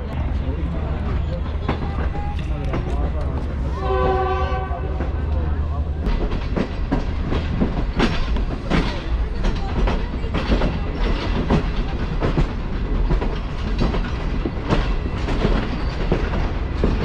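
The Green Line Express passenger train, bound for Karachi, pulls away from a station with steady rumbling and rhythmic clickety-clack of wheels on rails, loud and continuous, with a brief tonal announcement chime early on.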